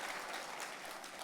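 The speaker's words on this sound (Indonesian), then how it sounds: "kita kasih tepuk tangannya boleh yang meriah buat Tuhan kita" A church congregation claps together during a Christmas service, a dense, even burst of applause heard faintly and briefly, without voices over it.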